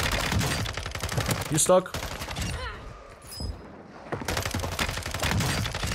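Rapid Hurricane SMG gunfire in a video game, bursts of close automatic shots in quick succession with a brief lull midway, someone talking briefly over the action.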